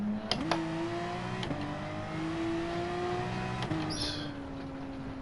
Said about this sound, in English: why is this car not fucking stopping?